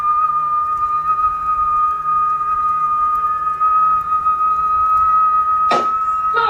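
A steady, sustained high whistle held as one long note during an exorcism, loud and close, ending with a brief sharp knock or thud near the finish.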